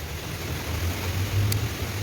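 Steady soft hiss of light midday rain under a bridge in Hong Kong during Typhoon Noul, with a low rumble underneath and no voices.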